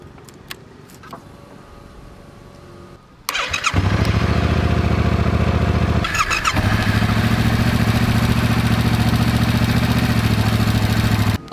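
A Yamaha MT-07 motorcycle engine starts after a short quiet stretch, then runs loud and steady close by, with a brief dip in revs partway through.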